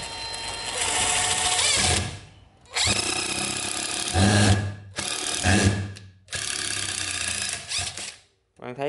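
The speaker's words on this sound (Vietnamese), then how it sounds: "giờ mình test thử một hai con vít cho bạn xem" Ryobi cordless impact driver driving screws into wood, loud close bursts of rapid hammering whir separated by short pauses, four or five runs in a row, with little else between them.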